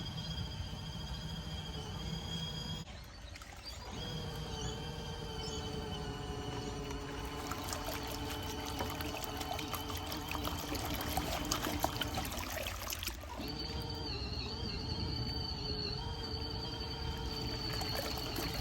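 A 15-litre portable washing machine motor agitates a fairly full load of laundry, giving a steady sloshing churn of water with a motor hum, briefly pausing twice as the agitation reverses.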